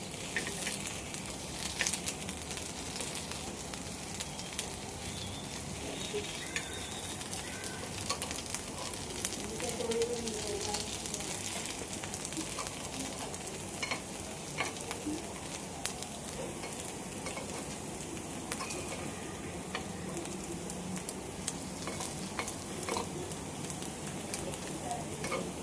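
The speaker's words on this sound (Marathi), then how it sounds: "दुसऱ्या साईडने भाजून घेऊया।" Sabudana appe browning on their second side in an appe pan for a Maharashtrian fasting dish, a faint, even crackle and sizzle running steadily throughout with occasional tiny pops.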